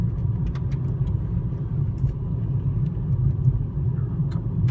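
A 2007 VW Rabbit rolls along a road over a few bumps, heard from inside as a steady low road rumble and engine drone with faint soft knocks, continuous and fairly even throughout.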